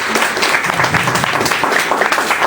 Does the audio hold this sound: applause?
yes